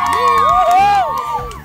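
Children and teens of a church youth group cheering and shouting together, a lively, sustained burst of excited voices close by with rising whoops over a steady crowd din.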